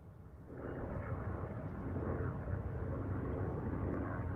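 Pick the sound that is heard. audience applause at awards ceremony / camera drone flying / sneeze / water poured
camera drone flying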